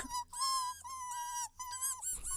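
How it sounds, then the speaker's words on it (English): Mice give a run of high, shrill squeaks, several in quick succession with short gaps, loud and close with no talking. "The mice squeaked for a while"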